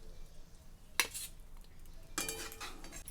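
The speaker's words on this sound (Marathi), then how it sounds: "एका प्लेटमध्ये याला काढून घेते." A metal utensil scrapes and clinks against a pan while fenugreek leaf stir-fry is served onto a plate, in two short quiet bursts close by in a still kitchen.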